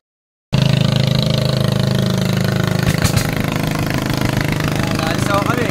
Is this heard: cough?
no